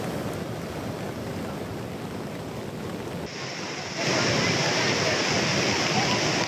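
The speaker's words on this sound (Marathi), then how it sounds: "कर्जतमध्ये सध्या मुसळधार पाऊस होतोय" Heavy monsoon rain and floodwater in Karjat, near Ambivali village where an earthen dam has burst, give a constant, loud roar of rushing water and wind noise that swells louder partway through.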